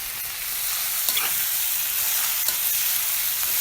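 Goat meat frying in oil over a village-style wood fire, a steady loud sizzle with occasional stirring clicks and scrapes, no talking.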